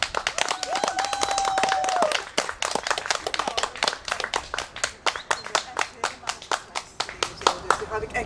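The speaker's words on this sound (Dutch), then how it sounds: "Mensen, applaus." Applause breaks out at a Dutch royal honours ceremony, steady hand clapping from a crowd with a few scattered sharp claps, continuing throughout and thinning into separate claps near the end, with faint voices mixed in.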